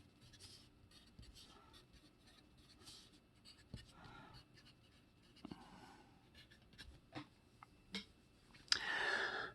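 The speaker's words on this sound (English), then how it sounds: "I'm going to draw these four graphs side by side" Pencil or pen scratching across paper while four graphs are drawn side by side, with soft strokes, taps and rustles in an irregular rhythm, close and quiet, ending in a louder brush of paper.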